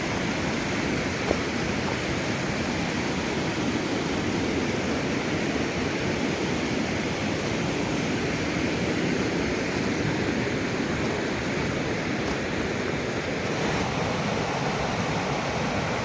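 Running water in a woodland stream, a steady continuous rush and babble close by, alone with no talking.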